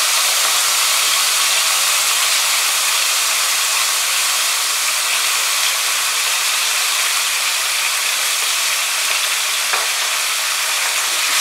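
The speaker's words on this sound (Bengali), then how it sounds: "পেঁয়াজ বাটাটাকে খুব ভালো করে ফ্রাই করে নেব।" Onion paste frying in oil in a pan over medium heat, a steady loud hiss and sizzle that holds evenly throughout, with no one talking.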